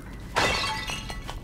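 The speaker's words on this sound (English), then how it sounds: "Can I just keep going around in circles, smashing these pots?" Clay pots shatter in The Legend of Zelda: Link's Awakening, one sharp crash followed by a few lighter breaking clatters, with no talking.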